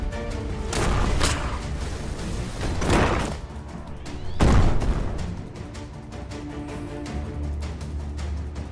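Grenade blasts in the steampunk video game Shardpunk: three loud booming bursts around one, three and four and a half seconds, each with a dense noisy tail, over steady game ambience.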